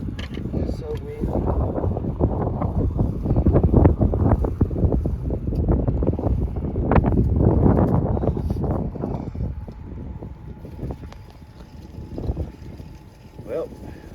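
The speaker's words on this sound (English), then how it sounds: "It's so windy." Strong, cold wind gusts across an open outdoor fishing spot near water, a steady broadband roar buffeting the microphone throughout, with a person talking and exclaiming over it.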